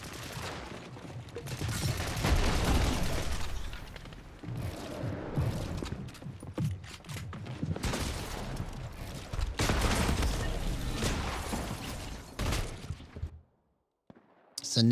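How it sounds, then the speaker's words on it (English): Rapid gunfire from a hunting rifle in a shooter video game, with dense overlapping shots and impacts over about thirteen seconds before a sudden near-silent gap, then a final burst. "Let's try the hunting rifle."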